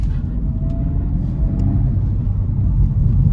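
A 2024 Acura Integra Type S in Sport Plus gives a steady, loud, low engine rumble from inside the cabin as it begins to accelerate, alone without talk.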